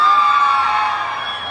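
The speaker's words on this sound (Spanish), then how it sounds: "Aplauso para la niña." A crowd at a children's dance contest in a shopping mall cheers and whoops for a girl, producing a loud, sustained wash of shouting voices that fades slowly.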